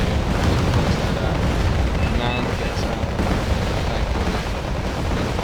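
A sustained roar of overlapping explosions as a squad is bombarded in the Cold War strategy game Wargame: Red Dragon, loud and continuous with rumbling blasts blending together.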